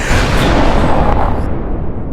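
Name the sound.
explosion sound effect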